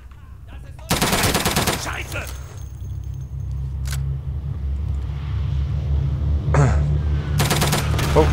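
Automatic weapon fire in a first-person shooter rips out in a loud rapid burst, followed by a lull with a single shot and ambient noise, then another short burst near the end; someone talks over it.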